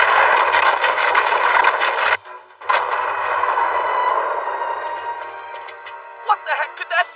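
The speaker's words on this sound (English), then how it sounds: "All cannons, prepare to fire!" Cannons fire in an animated fantasy battle, a dense roaring barrage with sharp blasts, a brief drop, then a long loud rumbling decay and a few closing bursts.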